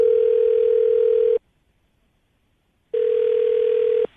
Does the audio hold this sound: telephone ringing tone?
yes